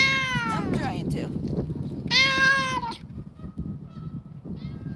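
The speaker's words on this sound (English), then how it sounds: "Josh has his ringtone as a cat meowing" A phone ringtone of a cat meowing plays a few drawn-out, wavering meows, close and clear, with a voice briefly in the background and room noise between the calls.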